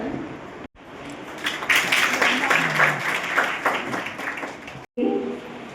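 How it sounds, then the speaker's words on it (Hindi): Audience applause at a centenary ceremony, dense steady clapping from a crowd that swells after a short break and holds for several seconds before a voice returns. "और आपकी तालियां बताएं कि आप किस स्वागत को लेकर जा रहे हैं।"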